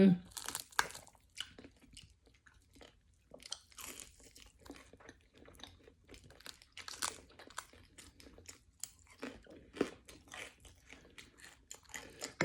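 Crispy fried banak fish served with sinigang is bitten and chewed up close, giving irregular sharp crunches and crackles in quick bursts between quiet pauses.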